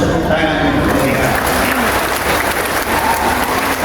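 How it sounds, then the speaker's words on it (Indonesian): Congregation applauding in church at a Palm Sunday Mass for the tabernacle team of the Santo Alfonsus community, a steady dense wash of clapping filling the room from start to finish, with faint voices mixed in. "tepuk tangan untuk mereka"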